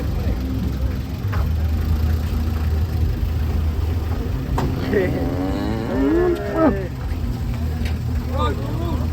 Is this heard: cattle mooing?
yes